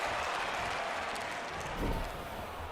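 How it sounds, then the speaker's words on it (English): A crowd at a wrestling match applauds steadily, producing a broad wash of clapping and crowd noise throughout, with a slight swell near the end. "The crowd already applauding."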